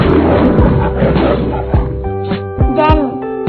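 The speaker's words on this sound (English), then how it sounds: "Lion." A lion roars in several deep, growling bursts, loud and close, with a voice speaking alongside part of the sound.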